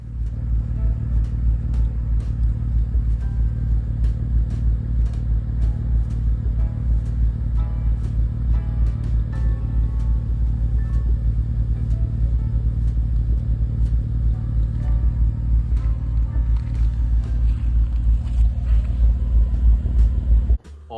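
An Acura TL engine fires up and keeps running with a steady, deep rumble and a light repetitive ticking clatter, heard up close for the whole stretch.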